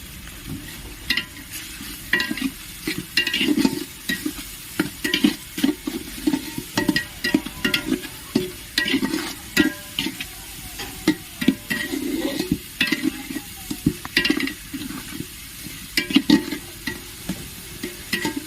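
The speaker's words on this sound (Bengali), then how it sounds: "মশলাটা খুব ভালো করে কষিয়ে নেব" Chili powder and cumin powder sauté in a hot pan while a spatula stirs them, giving close, repeated scraping strokes in an irregular rhythm over a continuous sizzle, with no talking.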